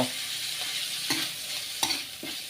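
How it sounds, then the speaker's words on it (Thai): Spices stir-fried with pork belly in a pan over low heat, a soft steady sizzle broken by three or four scraping strokes of a spatula. "ตอนนี้ผมผัด เครื่องเทศของเรานะครับ"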